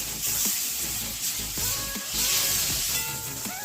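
Ginger frying in hot oil for a Bengali mixed vegetable dal, a dense continuous sizzle with light stirring clinks, close and fairly loud, no talking.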